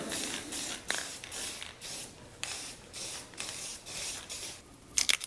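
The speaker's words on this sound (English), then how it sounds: "let's throw a couple quick coats of paint on here" Spray can applying quick coats of paint to homemade motorcycle seat rail extensions, heard as a series of close hissing bursts with short pauses between passes.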